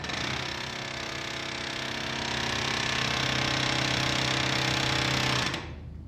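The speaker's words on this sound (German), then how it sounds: "Um die verschiedenen Feilensorten zu bearbeiten, verfügt die Firma Elis über eine Vielzahl von Haumaschinen." A file-cutting machine at a file-making firm in the Bergisches Land hammers teeth into a square file with a loud, rapid, continuous mechanical chatter, then stops abruptly near the end.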